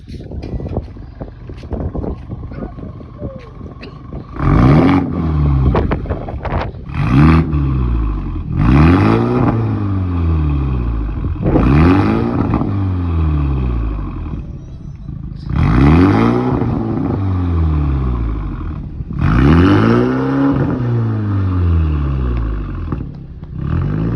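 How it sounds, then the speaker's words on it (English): A 2023 BMW 230i fitted with the stock exhaust from a 2022 Toyota Supra 3.0 twin-scroll turbo revs in sport mode, several loud rising blips that fall back to a rumbling idle between them, close to the tailpipe. "that's the Supra exhaust, Supra OEM exhaust modified to 230i"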